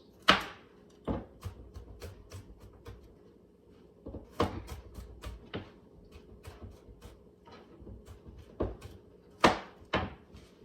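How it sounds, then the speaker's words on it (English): Knife chopping food on a cutting board while preparing a recipe, a series of sharp, irregular close knocks with brief pauses between bursts, no talking. "And then chop that."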